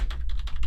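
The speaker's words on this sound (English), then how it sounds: "I'm hitting the keys that the game suggested" Computer keyboard keys tapped in a quick, uneven run of clicks while someone plays the 1993 DOS game Galleons; close and fairly steady, with no talking.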